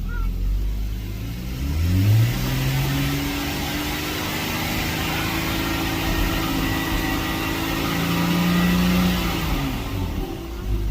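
BMW 3.0L N55 engine with low oil pressure is held near 4000 RPM in two long rev pulls, a steady mid-pitched drone rising and falling over a noisy background, with no speech.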